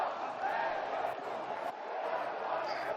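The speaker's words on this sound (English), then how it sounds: "And now we got some chanting going on" Spectators chanting at a rugby match between Black Lions and Lokomotive Penza, about 2,000 in attendance, a sustained distant crowd chant with a steady roar, faint and even throughout.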